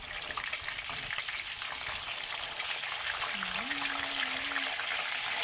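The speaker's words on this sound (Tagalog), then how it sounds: "Ang prito ko ng isda" Tilapia frying in a pan, a soft steady crackle and hiss throughout, with a faint short tone rising briefly in the background.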